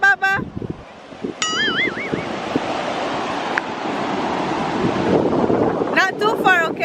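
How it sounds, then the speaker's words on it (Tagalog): Cold wind buffets a microphone outdoors, a continuous loud rumbling roar that swells steadily, while children's high voices and an adult talk and call out over it. "Malamig ang hangin."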